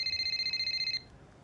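A telephone rings inside the F1 25 game, sounding as a bright electronic trill in short pulsing bursts for about a second before cutting off into quiet background.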